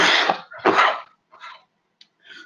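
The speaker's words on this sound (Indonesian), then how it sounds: "saya batuk" Several coughs from a presenter during a lecture on government goods and services procurement: two loud, close, harsh bursts, then a few softer, shorter coughs and breaths, with no talking.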